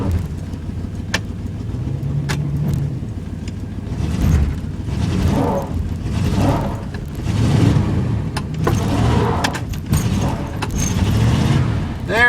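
A 1988 Chevy truck engine turning over on a cold start, a steady loud rumbling idle with uneven surges, heard close up throughout with a faint voice in the background.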